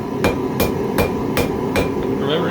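Hot metal is hammered on an anvil in a forge while being thinned and rounded, with five loud, evenly spaced ringing blows about a third of a second apart and no talk.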